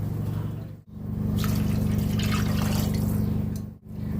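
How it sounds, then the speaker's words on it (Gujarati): Water pours into a pot of vegetable soup on a lowered flame, a close, steady stream of splashing that briefly breaks twice, heard alone. "આ 1 ગ્લાસ જેટલું પાણી અંદર હું નાખી દઈશ"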